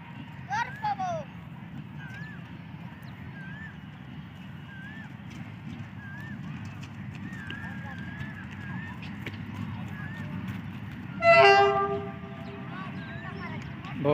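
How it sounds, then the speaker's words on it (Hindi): Locomotive RG24 5209 hauling a fertilizer special train sounds a brief, bright two-tone whistle near the end as it slowly arrives at Sanawan, over a steady low rumble with faint bird chirps. "बहुत ही स्वीटेस्ट विसल है RG24 5209 का"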